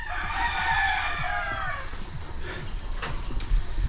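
A rooster crows loudly near a poultry farm, its long drawn call ringing out for about two seconds, followed by chickens clucking and scattered farmyard sounds nearby.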